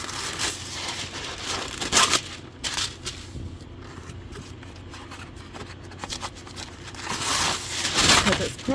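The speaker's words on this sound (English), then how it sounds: "And I'm going to put some wax paper down." A sheet of wax paper is laid down on a table during a resin crafting project, giving short bursts of crinkling and rustling near the start and again toward the end, with quieter handling noise in between.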